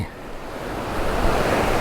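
Waterfall beside a bamboo hotel among rice fields in Chiang Mai's Doi Inthanon area, a steady broadband rushing of falling water heard from above, brief and continuous with no voices.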